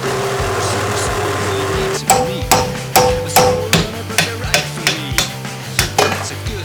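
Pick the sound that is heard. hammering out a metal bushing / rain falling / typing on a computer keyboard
hammering out a metal bushing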